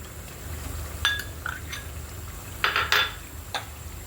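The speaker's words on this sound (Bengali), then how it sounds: "এই পর্যায়ে দিয়ে দিচ্ছি আমি বাদাম বাটা," Ground nut paste goes into a pan while cooking catla fish korma, with a few light clinks of a utensil against the cookware, close by over a low steady background.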